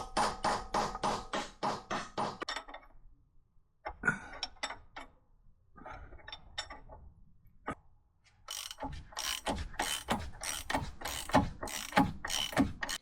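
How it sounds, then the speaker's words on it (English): A large bolt ratcheting into a Land Rover Defender Terrafirma caster correction radius arm, quick bursts of clicking pawl strokes in several runs with short pauses between, close and fairly loud. "Putting the first big screw, seeing if it goes in."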